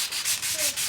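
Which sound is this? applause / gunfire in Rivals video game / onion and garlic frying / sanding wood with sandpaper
sanding wood with sandpaper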